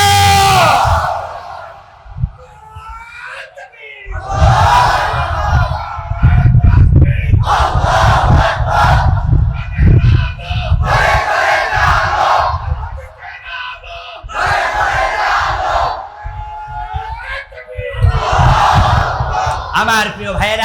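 A large religious gathering roars Allahu Akbar in unison, answering each Naraye Takbir call from a preacher; four or five loud chanted responses swell and fade in a steady call-and-reply rhythm, the leader's voice audible between them.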